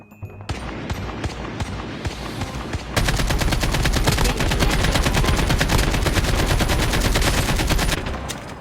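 Rapid automatic AK-47 gunfire in Call of Duty Mobile, a dense continuous burst that gets louder partway through and keeps rattling almost without pause.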